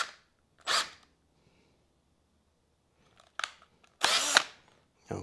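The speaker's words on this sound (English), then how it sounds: "let's go ahead and drill that hole a little bit bigger. This is a 3/8 inch bit." A power drill with a 3/8 inch bit enlarges a hole during an electronics install, heard in three short, loud bursts separated by quiet pauses.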